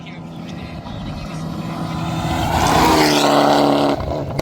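Mitsubishi Evolution X rally car at a rally in Uganda, its engine building from a rumble to a loud rising roar as it passes close, then easing off sharply.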